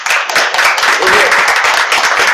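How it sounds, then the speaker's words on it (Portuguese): A round of applause from course participants for a presenting group at a Quilombista training course, brief and fairly loud clapping mixed with voices throughout. "Então, salva de palmas pro grupo,"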